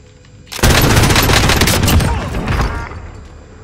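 Sudden burst of rapid video game gunfire that erupts after a quiet moment, several seconds of dense overlapping shots, loud and close, then trailing off into echoing tails.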